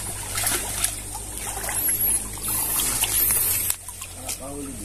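A river swollen after rain flows steadily throughout, a continuous wash with some higher trickling, while people talk faintly nearby and a bird chirps briefly.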